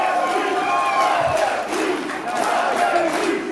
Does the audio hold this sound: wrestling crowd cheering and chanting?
yes